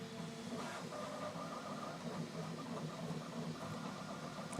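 A Bambu Lab X1 Carbon 3D printer runs a multicolor print an arm's length away, giving a loud, steady mechanical whir with fan hiss and rapid faint motor stepping throughout.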